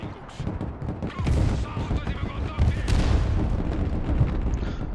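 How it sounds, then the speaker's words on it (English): Artillery fire in a video game rolls in as overlapping booms and rumbling blasts, a dense, continuous barrage that swells in loudness partway through. "That's some very fucking accurate artillery there."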